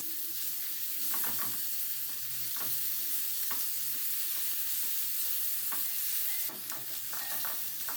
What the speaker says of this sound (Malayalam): ഇതൊരു 1/4 ഭാഗത്തോളം അങ്ങ് വഴറ്റിയെടുക്കുക.